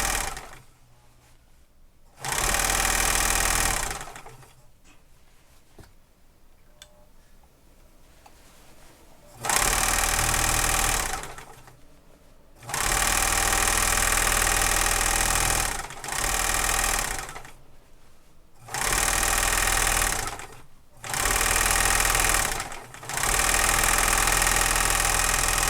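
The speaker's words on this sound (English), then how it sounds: "So the next thing I'm going to do is serge the edges of the pants." A serger sewing machine overlocks the edges of a pair of pants in loud, steady whirring bursts of several seconds each, separated by brief pauses.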